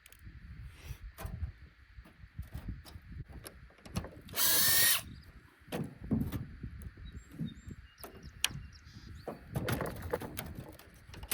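DeWalt power drill backing screws out of a DVD player, several short whirring bursts and one long loud run among clicks and handling of plastic and metal parts, nearby with no talking.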